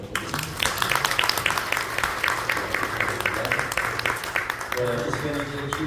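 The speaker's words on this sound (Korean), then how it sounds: "이제 이분들 모두에게 큰 박수 다시 한번 부탁드립니다" Audience at a Korean Christianity 140th anniversary symposium in a press club hall clapping together: crisp, continuous applause from a seated crowd, with a voice speaking through it and a brief musical tone near the end.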